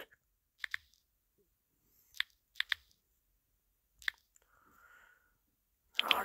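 Short bursts of clicky computer keyboard typing, a few quick keystrokes at a time separated by pauses, close and fairly quiet, with a brief faint tone near the end.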